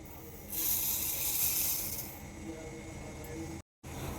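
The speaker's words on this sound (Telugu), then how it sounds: "యాభై గ్రాముల జీలకర్ర కూడా తీసుకోండి ఆయిల్లో వేసేయండి" Fifty grams each of fenugreek and cumin seeds hit hot oil for a mango pickle, giving a loud, bright hiss that swells quickly, holds for about two seconds, then settles into a softer steady sizzle.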